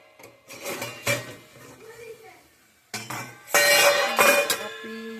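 Lid lifted from a covered cooking pot after simmering, several clinks and clanks of metal cookware in a home kitchen, close and fairly loud, with a person talking in between.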